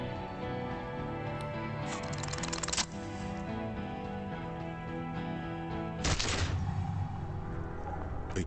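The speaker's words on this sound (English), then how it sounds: "A plume of smoke and fire erupts from the gun, and your hand goes numb from the explosion." A gunshot from a gun in the video game Disco Elysium bursts out sharply over steady background music, preceded by a brief rapid clatter of ticks.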